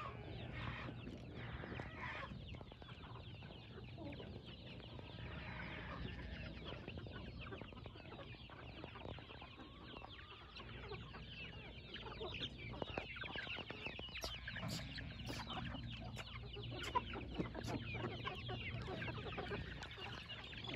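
Farm chickens cluck steadily while being fed grain in the evening in California, a dense continuous flock chorus close by with occasional louder calls and no talking.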